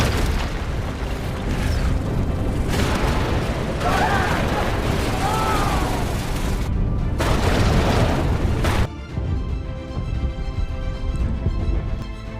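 A deep, rumbling nuclear power plant explosion from the 2016 Korean film Pandora roars on and on with booming bursts and debris-like crackle, then cuts to a quieter, ringing low rumble.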